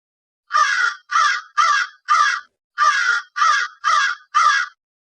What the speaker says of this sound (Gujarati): કાગડો બોલે